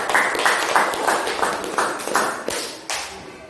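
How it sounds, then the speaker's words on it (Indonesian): Classroom applause from students during a lesson, a loose patter of claps with a few louder accented hits, fairly close and continuous for several seconds. "tepuk tangan."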